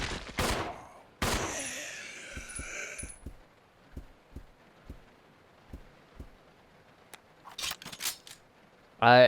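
Sharp gunshots from Resident Evil 0 HD: two loud blasts open, then a steady series of lighter evenly spaced shots, with a few sharp bursts near the end.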